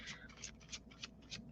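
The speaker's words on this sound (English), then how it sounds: "Wow, man, I am doing a good job shuffling." Tarot cards being shuffled by hand, a quick series of soft papery riffles and flicks repeating in short bursts, close and quiet with no talk.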